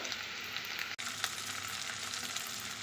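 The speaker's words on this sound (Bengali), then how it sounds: "পেঁয়াজটা ভালোভাবে ভাজা হয়ে গেছে এখন দিচ্ছি আলুগুলো" Potatoes added to a pan of well-fried onions for a Bengali curry, giving a steady close-up sizzle of frying with one brief break near the start, no voices.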